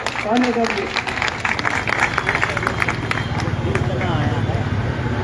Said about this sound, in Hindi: जोरदार तालियां, स्वागत, जोरदार तालियां